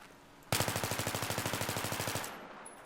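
Rapid automatic gunfire from a rifle fitted with a foregrip in Battlefield 3, a loud, steady burst of evenly spaced shots lasting about two seconds before cutting off, with no talking.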